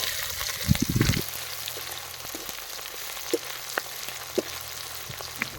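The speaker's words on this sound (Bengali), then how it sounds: "পেঁয়াজ আর কাঁচা লঙ্কাগুলোকে ভালো করে ভেজে নেব।" Chopped onions, green chillies and ginger frying in hot mustard oil with cumin and bay leaf, a close, steady sizzle with a burst of louder stirring scrapes near the start and a few light ticks and pops after.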